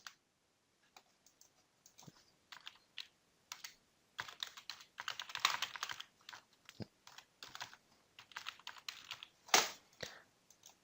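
Typing an email address on a computer keyboard: quiet, close key clicks in uneven bursts with short pauses, with no talk.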